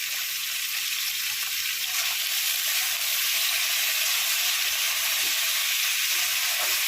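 Bottle gourd greens frying in a pan with potato, eggplant, pumpkin, beans, chili, salt and turmeric, giving a steady, even sizzle that stays close and loud for the whole stretch with no voices.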